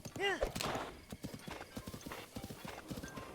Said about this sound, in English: You're not going where I'm telling you, Horsey.